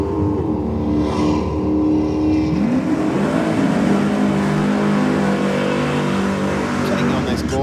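A supercharged V6 drag racing car revs loudly and close at the drag strip, its engine pitch sweeping up and holding a strong, harmonic-rich roar for several seconds, while a commentator talks over it.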